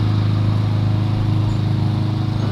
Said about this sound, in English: Springs must be mechanically charged, either manual, via this motor that looks like a drill motor.